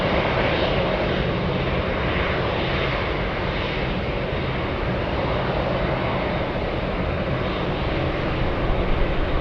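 An Aleutian Airways Saab 2000 turboprop airliner roars steadily at close range at Anchorage, a dense, continuous engine and propeller drone holding at full loudness with no talk over it.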